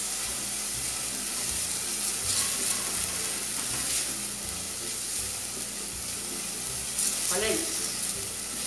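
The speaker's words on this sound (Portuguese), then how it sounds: "já fazendo meu arroz" Rice frying in a pan with garlic sizzles steadily throughout, with a few louder bursts of stirring and a brief spoken remark near the start.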